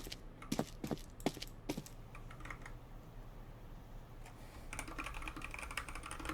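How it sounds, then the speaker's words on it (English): Computer keyboard typing heard faintly, with scattered key clicks at first, a quieter pause, then a steadier run of light tapping. "Okay, Onyx, are you typing somewhere?"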